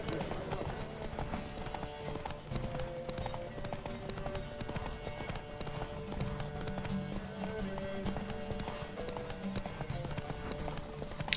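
Horses gallop hard in a race in The Witcher 3, a dense, steady drum of clip-clop hoofbeats filling the whole stretch, with game music layered underneath.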